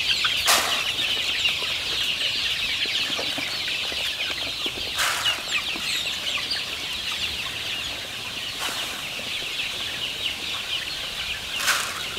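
Chickens in a shared farm coop cluck and chatter steadily at moderate distance, with a few brief bursts of wing flapping spaced through a continuous flock murmur.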